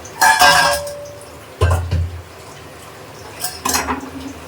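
A spoon stirs and scrapes through koduva fish curry ingredients and salt in a metal pan, giving three separate bursts of clinking and scraping with quiet pauses between them. No one speaks.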